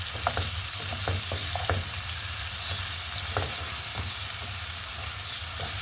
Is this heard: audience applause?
no